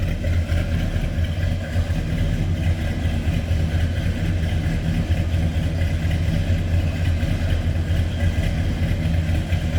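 A 1967 Ford F100 Ranger Custom Cab pickup truck engine idles steadily, a loud, close, even low rumble that stays constant throughout with no talking.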